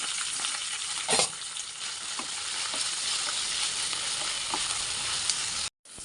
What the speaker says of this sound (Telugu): మంచిగా వేయించుకోవాలి ఇందులో కరివేపాకు పుదీనా కొత్తిమీర అండి